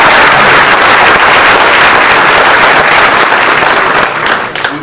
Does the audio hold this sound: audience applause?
yes